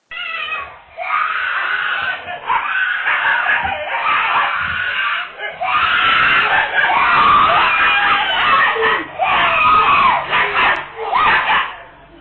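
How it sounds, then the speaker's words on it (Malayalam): A young child playing in a home courtyard screams and wails in terror as a stray dog leaps on and attacks, with loud, frantic cries that barely pause, sounding somewhat thin and muffled. "കുട്ടി ഭയന്ന് നിലവിളിച്ചതോടെ"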